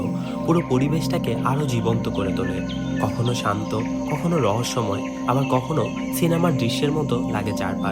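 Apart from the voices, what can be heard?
crickets chirping in swarms near tea garden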